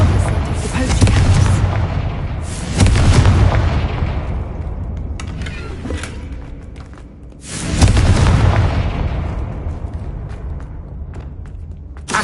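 Confringo fire-blast spell explosions in Hogwarts Legacy: three heavy booming blasts, each with a long rumbling decay, spaced several seconds apart and loud in the foreground.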